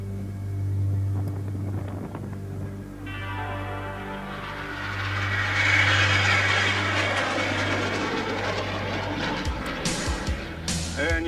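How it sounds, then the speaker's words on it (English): A jet aircraft flying an aerobatic maneuver with the Italian jet display team gives a broad roar that swells and peaks midway, then recedes, with wind buffeting the microphone over a low steady drone. "And you can watch this incredible maneuver done by a jet aircraft"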